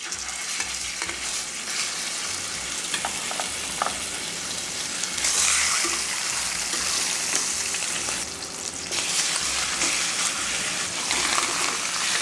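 Pork chops sizzle steadily in a hot skillet for tomato-gravy chuletas, a loud continuous frying hiss with occasional crackles and pops, no talking.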